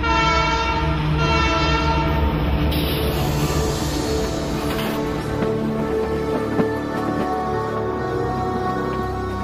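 A Canadian Pacific Railroad train rolls past close by, its loud horn sounding steadily throughout over the continuous rumble and clatter of the rail cars.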